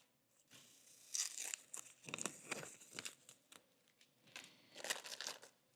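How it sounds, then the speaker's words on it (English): Adhesive backing peeled off a foam gasket during work on a Harley-Davidson Dyna, producing faint close crinkling and tearing rustles in irregular bursts with short pauses. "Peel the backing off."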